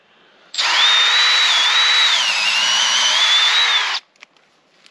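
A power drill bores a tap hole about 1.5 inches deep into a maple tree for sap; a loud, close whine starts abruptly, holds steady with a slight dip in pitch partway through, then cuts off sharply into near silence.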